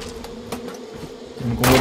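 Wasps hover around a nest in Far Cry 5, making a low steady buzz that rises into a louder rush at the end.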